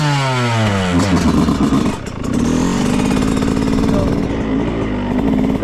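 A motorcycle revs hard and close while being set up for wheelie practice, its engine note climbing and falling in repeated surges that fill the whole stretch.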